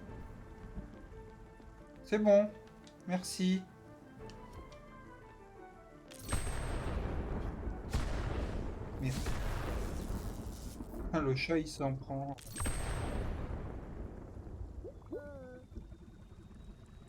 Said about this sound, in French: je peux rien faire tant que c'est l'orage